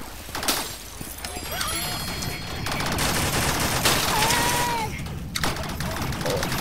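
Rapid video game gunfire, dense and continuous like a fusillade, loud and close, with sweeping electronic tones and shattering sounds mixed in.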